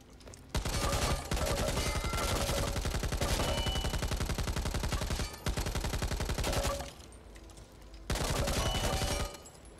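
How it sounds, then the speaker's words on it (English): An M249 light machine gun firing in the video game Back 4 Blood, four long sustained automatic bursts of rapid, evenly spaced shots, loud and close, separated by brief gaps. "we actually have the M249, which I was very excited to see this in the game"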